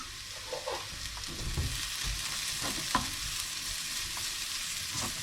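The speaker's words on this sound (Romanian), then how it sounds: "Am tăiat ceapa mărunt, deasupra voi adăuga puțină unsoare, dacă nu aveți puteți să folosiți și ulei și o voi căli puțin până devine mai cristalină" Chopped onion sizzling in lard in a pan, a steady close frying hiss with occasional stirring scrapes and small pops throughout.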